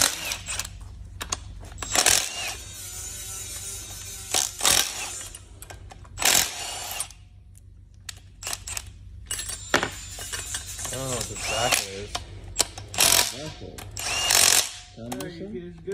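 A bolt is worked out of a brand new 350Z transmission with a tool, giving repeated loud bursts of ratcheting and metallic clatter in an irregular rhythm, with quieter gaps between and some talk mixed in.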